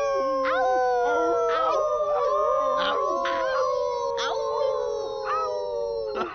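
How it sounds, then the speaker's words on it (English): A cartoon wolf pup howls in long rising and falling calls, several voices layered and overlapping, with short yips between, loud and close throughout. "Here's an example about wolf howling with the Kratt Brothers and the Wild Kratts team."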